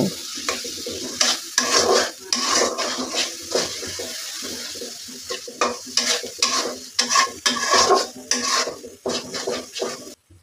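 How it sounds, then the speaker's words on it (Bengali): A spice mixture for chicken biryani is stirred and fried in a pan, with repeated scraping strokes of a spoon and clattering against the metal over a steady sizzle, close and rhythmic. "এবার সবগুলো উপকরণ একসাথে মিশিয়ে নিচ্ছি এবং কিছু সময় ধরে কষিয়ে নিব।"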